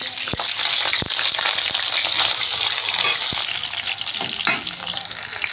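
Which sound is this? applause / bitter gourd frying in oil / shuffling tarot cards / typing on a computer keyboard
bitter gourd frying in oil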